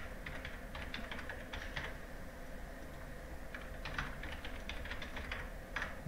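Light keyboard typing as login details go into an app, two bursts of quick keystrokes with a pause between, steady and fairly close, no voices.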